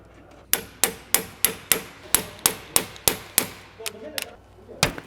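A tiny ratchet works loose line fittings on a V12 BMW 850CSi, giving a run of about ten sharp, evenly spaced metallic clicks up close, then a few softer, irregular ones.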